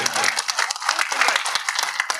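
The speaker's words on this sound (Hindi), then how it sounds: "हिम्मत अफजाई की ताली ऐसी बजाइए कि दिल तक आपकी ताली की आवाज नहीं," Crowd clapping at an Urdu poetry recitation gathering, a lively, dense burst of many hands applauding together, loud and sustained for a couple of seconds.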